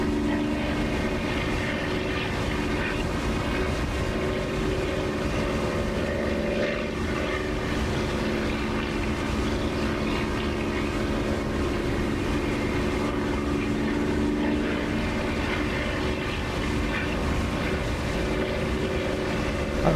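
Propeller fighter aircraft engine in the DCS flight simulator game, cruising in trimmed level flight: a loud, continuous droning roar with steady tonal hum, unbroken for the whole stretch and with no other sounds.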